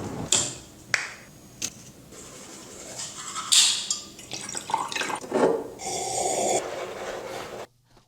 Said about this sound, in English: Why are you rinsing your mouth out with sparkling water, bro?